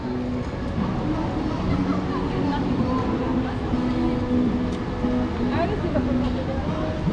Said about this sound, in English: And this is the subway station.